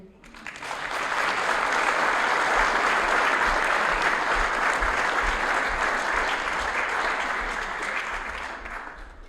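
Applause at the 2023 Pass It Along Scholar Athlete Dinner for the honored scholar athletes: a full room of clapping swells in quickly, holds strong and dense for several seconds, then eases off near the end.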